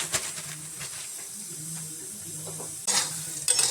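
Kabuli chickpeas being dry-roasted in a pan, a soft stirring hiss and light scraping with occasional louder rattles, close and quiet, with faint low voice-like sounds in the background.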